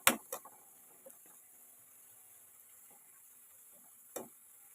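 Onions browning in hot oil for crispy beresta, with a few sharp clicks and spatters at the start and a soft, steady sizzle underneath.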